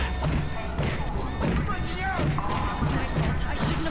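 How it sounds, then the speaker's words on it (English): Glass shatters in The Amazing Spider-Man video game, a crash heard under busy game sound, with voices talking throughout. "breaking the glass!"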